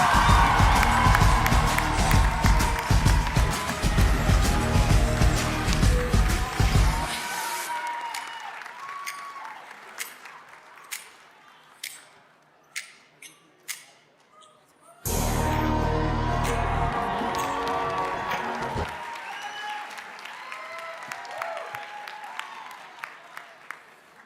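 An audience at a Model UN closing ceremony bursts into loud applause and cheering, which fades into scattered claps and then swells again into a second strong round of clapping.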